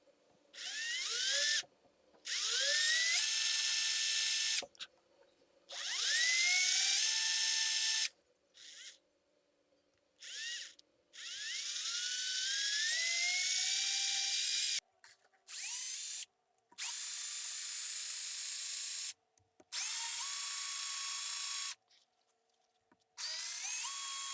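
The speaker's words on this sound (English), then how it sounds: "my Dremel tools for the drill bits, 3/64 of an inch to start with the holes" A Dremel rotary tool fitted with a 3/64-inch bit drills small holes in a wooden Husky Jerk crankbait. It runs in repeated bursts of whining drilling, each rising in pitch, separated by short silences, close and clear with no talk.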